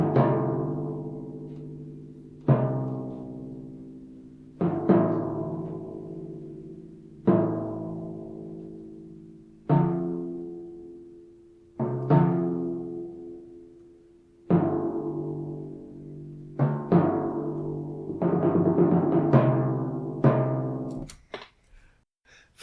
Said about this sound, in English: So here's what the timpanis sound like on their own here.